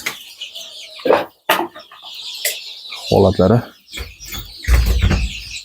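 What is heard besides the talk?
chicks in a chicken coop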